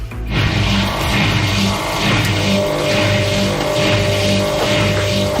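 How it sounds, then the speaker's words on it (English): Steady mechanical rumble with a rhythmic, cyclical churning and whooshing, like a washing machine drum turning, loud and close with no voices. "That is a sound of a washing machine, my washing machine."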